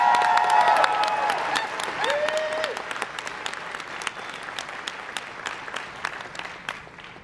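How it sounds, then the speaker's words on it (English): A room full of people applauding for an executive producer at a fan panel, dense sustained clapping that stays loud throughout, with faint crowd murmur underneath. "Big round of applause for him."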